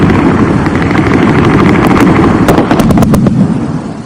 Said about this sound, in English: Long lines of heavy machine gun fire gliding across the roofs, exploding against their targets.